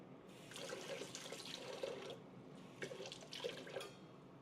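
Kitchen sink tap runs steadily while something is rinsed under it, a soft continuous splashing with a few brief louder bursts of water, moderately close and without talk.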